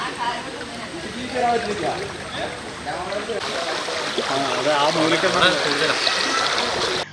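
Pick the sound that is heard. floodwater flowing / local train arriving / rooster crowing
floodwater flowing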